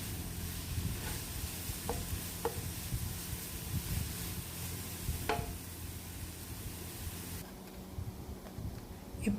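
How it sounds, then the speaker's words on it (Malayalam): Green chillies and onions sizzle in a pan while being stirred, a continuous moderate frying hiss with occasional light scraping clicks of the spoon. "നന്നായിട്ട് ഇളക്കി ഒരു 2-3 മിനിറ്റ് വേണം നന്നായിട്ട് ട്രാൻസ്പെറൻ്റായി കിട്ടാൻ"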